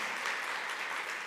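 A church congregation claps together at a Sunday service to welcome a newcomer, a dense, steady burst of many hands filling the room, brief and without talk.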